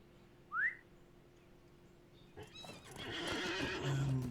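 A horse in the online game Lord of the Rings Online gives a single short, bright whinny that rises high. It is followed by quiet, then rising ambient game noise and faint hoof-like clatter.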